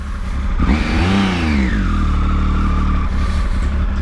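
A Triumph Tiger 955i motorcycle engine revs up close, climbing to a loud peak, falling back and settling into a steady idle, with no talk.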